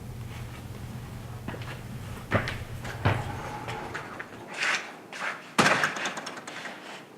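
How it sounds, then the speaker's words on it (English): Giant stainless steel doors close, producing several heavy thuds and a metallic clunk spread over a few seconds against a quiet indoor background, with no speech. "With these giant stainless steel doors all throughout this structure, they remind me of bank vault doors"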